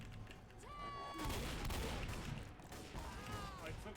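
Bursts of gunfire from the video game Left 4 Dead during The Sacrifice finale: a dense fusillade of overlapping shots mixed with game noise and players talking over it.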